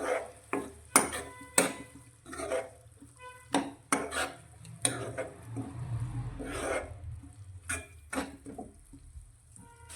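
Spices sauté with vegetables in a pan for mixed vegetable muthiya shaak. A utensil repeatedly scrapes and clatters against the metal pan in an uneven stirring rhythm, close and fairly loud, over a low frying sizzle.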